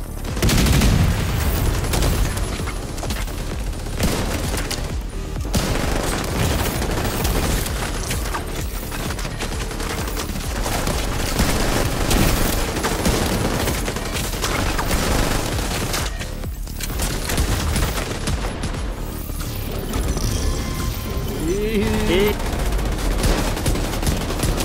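Sustained gunfire in The Division 2 Dark Zone PvP, loud and nearly continuous automatic shots with heavy booms layered together, close and dense, with voices talking in the background.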